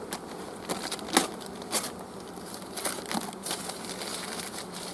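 Honey bees buzzing in a hive in winter, a steady close drone with louder swells as bees pass near, mixed with light tapping and rustling around the hive, and no talk.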